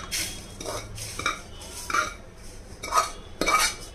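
Roasted semolina for rava laddu is scraped and tipped into a basin, giving a series of short metallic clinks and scrapes of a spoon against the pan, close and unaccompanied by speech.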